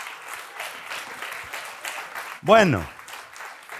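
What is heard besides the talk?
congregation applause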